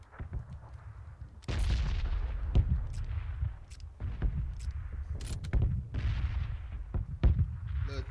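PUBG combat with a Kar98K rifle and other weapons: heavy, booming in-game gunfire and explosive bursts, some close and some distant, fire repeatedly over a continuous low rumble.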